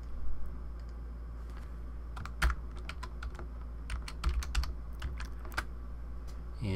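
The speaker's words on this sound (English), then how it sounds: "And just type that in." Close computer keyboard typing plays as a continuous run of quick clicks with a few sharper keystrokes standing out over a low steady hum.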